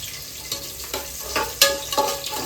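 Washed mutton pieces frying in a pan for mutton sambar, a steady close-up sizzle broken by crackling spatters and the scrape of stirring, with no talking.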